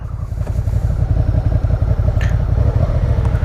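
A motorcycle runs steadily close by during a DMV riding skills test, its engine a continuous low rumble with faint clatter and a brief higher squeal partway through, suggesting braking.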